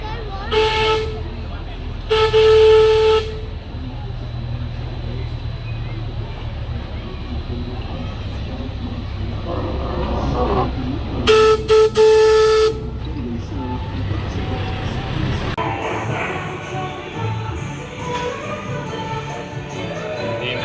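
A train sounds two long, loud blasts on its horn or steam whistle, spaced apart over a steady rumble and hiss.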